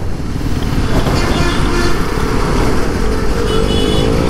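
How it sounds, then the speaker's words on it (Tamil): Dense Chennai road traffic, a constant rumble of cars and motorcycles droning and revving close by, steady throughout with no clear talk. "டிராஃபிக் தான்"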